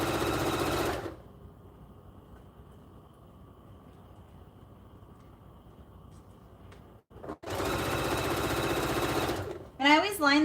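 A sewing machine stitches a blanket in loud, steady bursts, with a quiet pause between runs and a rising whir near the end.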